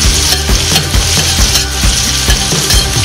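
Onions stir-frying in brown butter in a hot pan, a steady loud sizzle broken by repeated scraping and stirring knocks at an irregular rhythm, close up with no talking.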